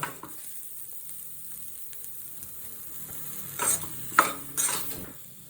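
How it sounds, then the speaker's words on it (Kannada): Chicken pepper dry being stirred in a pan over a low gas flame, with faint steady sizzling broken by a few sharp scraping and clinking strokes of a spoon near the end; no talking. "ಲೋ ಫ್ಲೇಮ್ ಇಟ್ಕೊಳ್ಳಿ ಜಾಸ್ತಿ ಇಡಬೇಡಿ ಗ್ಯಾಸ್ ಕ್ಲೀನಾಗಿ ತಿರುಗಿಸ್ತಾ ಹೋಗಿ ಅವಾಗ ತಳೆ ಹಿಡಿಯಲ್ಲ"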